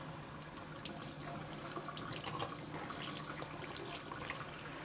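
Warm water from a shower runs steadily over a pair of phones, a Samsung Galaxy S9 Plus and an iPhone X, making a continuous close hiss and splash with no pauses.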